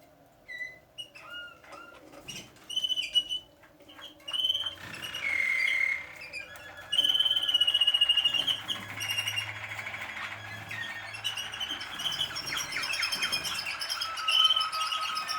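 Canaries in a breeding aviary chirp, whistle and trill continuously, several birds singing at once with bright overlapping phrases, fairly close and steady throughout.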